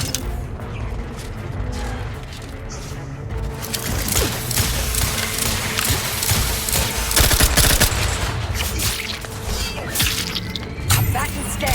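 Gunfire in The Outer Worlds 2 builds into a dense, continuous clatter of rapid shots and mechanical rattling, loud and unbroken throughout, with creaks and metallic ticks mixed into the din.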